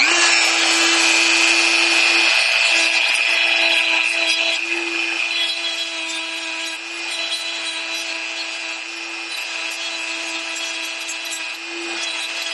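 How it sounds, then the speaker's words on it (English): A grinder cuts away the peened-over end of a pin holding a gear on an Ironhead Sportster magneto, a loud, steady, harsh grinding whine running continuously for about twelve seconds, easing slightly partway through. "And they've really got the end of this pin peened over, so we're going to grind that off."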